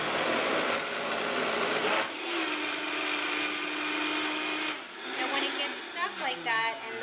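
A Vitamix blender starts loud, then its motor settles into a steady whine and is gently turned up from low variable speed, the pitch rising toward the end with some bumpy changes.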